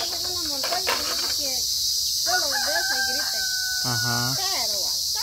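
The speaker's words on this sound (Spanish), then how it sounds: "Ese es el grillo." A cricket chirps in steady, high repeated trills, clear and fairly close, while people talk casually nearby and a rooster-like call briefly rises in the background.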